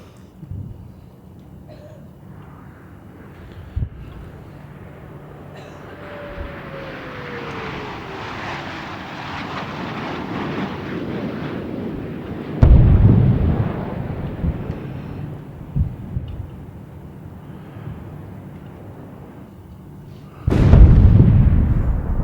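Missiles launching out of Tel Aviv during the war in Israel and being intercepted: a long distant roar swells and fades, then two sharp heavy booms ring out several seconds apart.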